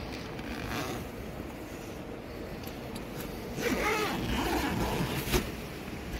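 A zipper is pulled open on a car roof-top tent at a waterfall campsite in Gürleyek, Eskişehir. Steady outdoor hiss, then a louder stretch of rasping, rustling fabric and zip noise.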